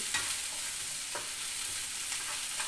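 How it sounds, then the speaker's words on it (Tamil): Onions sautéing in oil for a chutney, a continuous hiss of frying with three or four faint stirring scrapes, fairly quiet and close, no talk. "பாருங்கள் நல்லா வதங்கணும் பச்சை ஸ்மெல் போயிடணும்"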